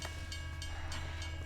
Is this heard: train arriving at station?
yes